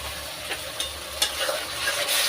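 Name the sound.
food frying in pan after adding salt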